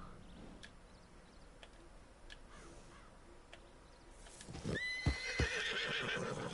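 A Mustang horse in a video game neighs loudly and rears, its whinny rising sharply near the end after a few seconds of quieter ambient ticks and clatter.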